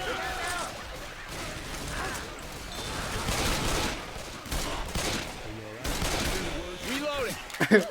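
Rapid bursts of gunfire in Left 4 Dead 2, with sharp repeated shots and clattering mechanisms mixed under excited talking voices.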